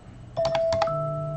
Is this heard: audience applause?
no